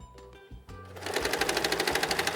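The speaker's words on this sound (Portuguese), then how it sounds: "E aí é só uma costura reta." A sewing machine stitches a straight seam, starting after a few quiet clicks and settling into a fast, even, rhythmic run of needle strikes, close and clear with no talking.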